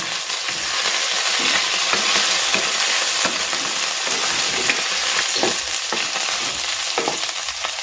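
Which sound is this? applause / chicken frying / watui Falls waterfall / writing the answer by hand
chicken frying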